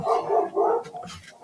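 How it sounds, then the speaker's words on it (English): Several dogs bark in quick repeated bursts, close and loud, some yips mixed in, with no talking over them. "the dogs again, just barking for a sec."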